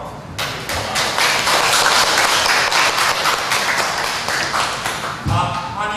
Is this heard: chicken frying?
no